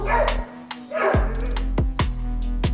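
Several dogs bark repeatedly and loudly nearby at a cornered mountain lion, sharp overlapping barks and yips in an uneven, agitated rhythm.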